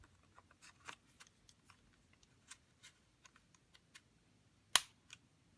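A Nintendo Switch Joy-Con controller snaps onto the console with a sharp, close click near the end, preceded by faint scattered ticks and handling taps in a quiet room.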